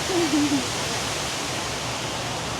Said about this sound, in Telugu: వాటర్ ఎట్లా పడడం నచ్చింది